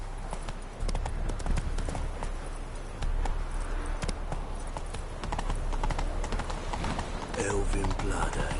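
Horse hooves galloping in the video game The Witcher 3, a brisk continuous clip-clop rhythm running throughout, close and moderately loud, with game speech over it.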